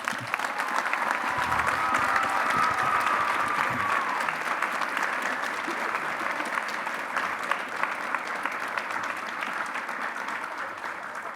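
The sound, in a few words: audience applause at a fashion show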